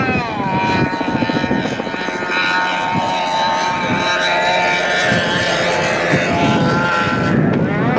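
A single-engine propeller aircraft on landing approach at a 1989 jet rally, its loud steady droning engine with strong harmonic tones that shift slightly in pitch, heard close and alone throughout.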